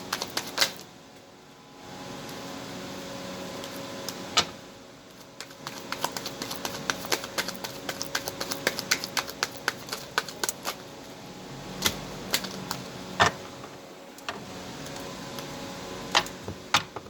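Rapid riffling clicks and soft snaps of cards being shuffled, coming in repeated bursts with brief pauses, close by and fairly quiet.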